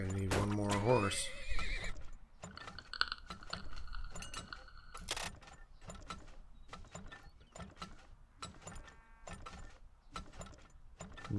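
A horse neighs in the video game Turmoil, a short whinny at the start followed by clicking, ratcheting mechanical game sounds and light clip-clop tapping.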